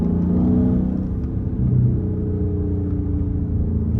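A straight-piped Dodge Charger Scat Pack with a quarter intake revs loudly on back roads, a deep, continuous rumbling exhaust drone that swells and settles across the whole stretch, heard from close by.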